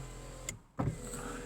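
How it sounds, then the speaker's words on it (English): A 1991 Volvo 240GL saloon's driver's front electric window motor whirs steadily, briefly stops with a thunk, then resumes its hum, close and fairly quiet. "Electric front windows."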